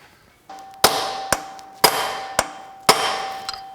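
A metal driver hammers a bearing race flush onto a crankshaft: three loud, ringing metallic clangs about a second apart, each followed by a lighter tap, with no voices.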